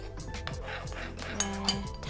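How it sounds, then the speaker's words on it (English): A spoon clinks briskly against a bowl while stirring Thai beef salad dressing of lime, sugar and soy sauce, giving a close, steady run of small metallic taps with a couple of brighter clinks. "Have a bit of quick stir."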